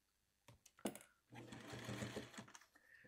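A sewing machine stitches quilt block pieces in a short rapid burst after a few handling clicks, running close and fairly quiet.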